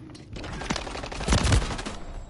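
Rapid gunfire in a Call of Duty match crackles in dense, overlapping bursts, close and loud, with a sharp final shot at the end.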